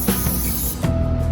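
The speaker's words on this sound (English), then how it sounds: "just gonna spray on some low tack spray adhesive" Low tack spray adhesive sprayed from an aerosol can while building a movie-scale Ecto containment cabinet, heard as a close, broadband hiss in short bursts over about a second and a half.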